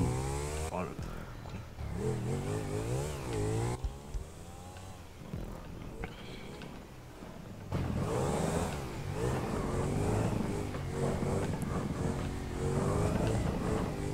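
A Bati 801 motorcycle in GTA 5 revs and accelerates through a parkour course, its engine pitch repeatedly rising and falling close up while someone talks over it.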